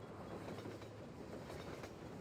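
A train rolls past in the PC shooter Half-Life 2, a dense continuous rumble with rhythmic clickety-clack of wheels on rails, steady and fairly loud throughout with no voices.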